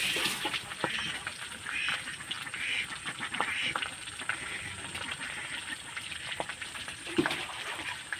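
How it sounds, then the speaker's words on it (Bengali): Fish cutlets sizzle and crackle steadily in oil in a pan, with occasional clicks and scrapes as they are turned. "আমি এইভাবে উল্টে পাল্টে লাল করে ভেজে আপনাদের দেখাচ্ছি"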